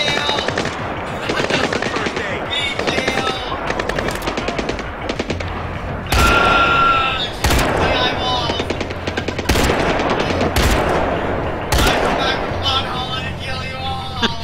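Enemy gunfire in Splinter Cell Blacklist, with loud sustained automatic bursts and heavy sharp shots stacking up throughout while a voice talks over the barrage.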